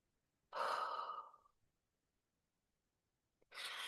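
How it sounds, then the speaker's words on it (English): Slow, deliberate breaths during EFT tapping, one long close exhale of about a second, then silence before the next breath begins, quiet and intimate. "we're just going to breathe in and we're going to breathe out"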